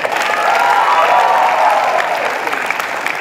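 A crowd applauds at the opening of the UPSI Leaders Colloquium 2023, a loud, steady wash of clapping with a faint cheer in it that fades slightly toward the end.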